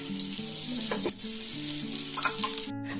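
One dried chilli, two bay leaves and a little cumin fry in oil in a pan with a constant, close sizzle, overlaid by steady musical tones and a few light stirring clinks, with no talk.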